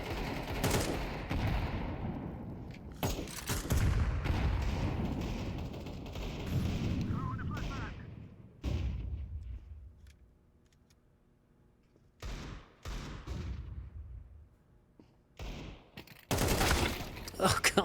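Player gunfire in a shooter video game, several loud bursts of rapid automatic shots broken by quieter gaps with a voice talking in between.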